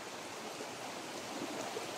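A river stream flowing over multicolored rocks on a mountainside, a steady broadband rush of water that stays even and continuous throughout, close and moderately loud with no voices.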